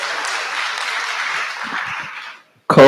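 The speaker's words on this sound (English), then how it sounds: "A round of applause for George" Applause from an audience at a Kabarak KIPPRA mentorship event, a steady dense wash of clapping that fades out, followed by a voice after a brief pause.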